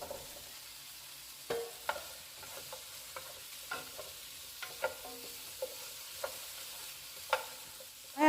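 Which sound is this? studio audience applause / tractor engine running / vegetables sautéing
vegetables sautéing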